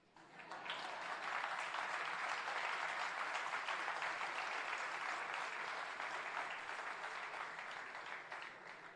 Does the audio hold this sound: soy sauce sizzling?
no